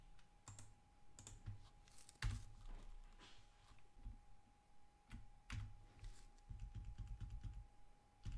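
Keys being typed on a computer keyboard at a desk running an Ubuntu terminal, with irregular bursts of clicks and heavier thunks on individual keys, close and fairly quiet, along with a steady faint electrical hum.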